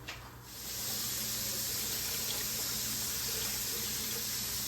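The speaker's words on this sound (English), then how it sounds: "Add about 4 cups of water." Water is poured steadily into a pot of ground beef stew, a continuous close splashing hiss that swells after a brief quieter start and holds evenly throughout.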